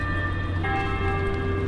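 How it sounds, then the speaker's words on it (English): A church bell ringing near a rail trail along the tracks, sustained metallic tones humming over steady outdoor background noise, with no talk. "Get a little church bell action there."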